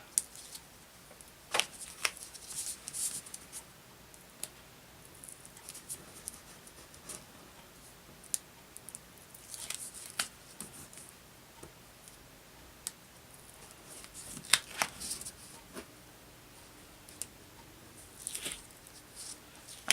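Paper pieces for a handmade Easter card are peeled off a sheet by hand: close, sporadic crinkling and sharp little rips and ticks of paper, separated by quiet pauses.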